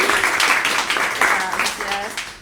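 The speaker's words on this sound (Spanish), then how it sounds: "Así que un aplauso para Emi" Applause for Emi at a live podcast recording, with clapping from a small audience mixed under a voice talking over it, fairly close and loud.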